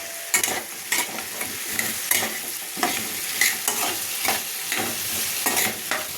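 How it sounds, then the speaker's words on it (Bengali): Jackfruit and potato curry with tomato and green chillies being stirred and sautéed in a pan, with steady sizzling and frying and repeated scraping stir strokes throughout. "ভালো করে এঁচোড় আলুটা আমি কষে নেব"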